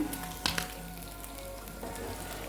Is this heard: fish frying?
yes